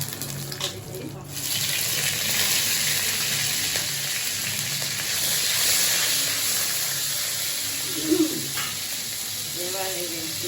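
Cumin, bay leaves and spice seeds tempering in hot oil after fried lentil dumplings, a steady broad sizzle running throughout, fairly close, with a few faint utensil and water sounds near the end.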